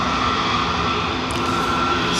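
A JetBlue Airbus A321 takes off from Dublin bound for Boston, a steady, fairly loud jet engine roar with a constant broadband rumble, heard without talk.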